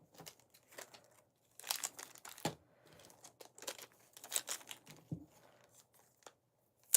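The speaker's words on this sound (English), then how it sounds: "I'm working on the black lentils right now, getting their stickers on." Plastic-wrapped packets of black lentils rustle and crinkle as stickers are pressed and smoothed onto them, in close, irregular bursts with quiet gaps between.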